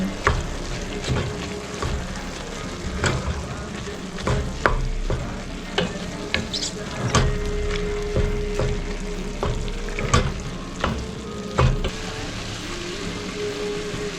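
Tomato paste is stirred into a red spaghetti sauce in a pan, a bubbling sizzle broken by repeated spoon scrapes and taps at an irregular pace, close and moderately loud with no talk.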